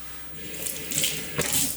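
Water runs from a kitchen tap in a steady close rush while hands are wetted, with brief splashes rising over the flow.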